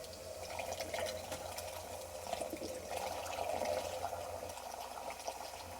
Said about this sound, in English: I'm opening the valve counterclockwise, and that should start pushing water out the hose